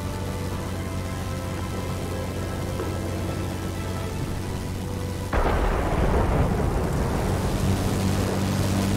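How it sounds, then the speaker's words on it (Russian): A thunderstorm in the flight combat game World of Warplanes: a steady wash of rain and low rumble, then a sudden, louder burst of thunder partway through that keeps roaring to the end, with no voices. "Слишком сильная буря."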